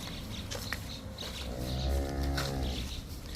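A cow moos once, a low drawn-out bellow near the listener, with faint farmyard background and no talking.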